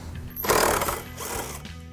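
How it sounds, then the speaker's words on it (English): A drill bores holes through a steel bracket from a 2015-2020 Mustang coilover install, a loud broadband whine building after a brief pause and running steadily for over a second, close up with no talk. "Then we're going to take off the bracket and drill the holes."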